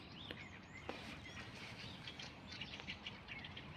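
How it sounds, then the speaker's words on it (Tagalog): Birds chirp and tweet around an outdoor bus stop waiting area in Slovakia, scattered faint calls over a low background hum, with no talking. "Ang gaganda ng sound ng mga ibon."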